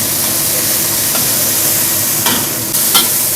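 Garlic sizzles steadily in a hot pan, with a stirring utensil scraping through it now and then. The frying is close and fairly loud, with a couple of sharper scrapes near the end and no talking.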